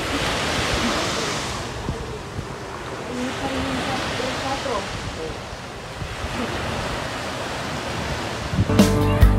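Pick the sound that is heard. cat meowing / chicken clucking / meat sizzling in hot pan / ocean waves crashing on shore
ocean waves crashing on shore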